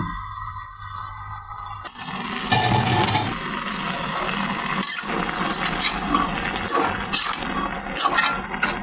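A lid clanks down onto a pot of Malabar spinach cooking with a hilsa fish head, a single sharp knock followed by a steady, loud sizzling hiss from the pot.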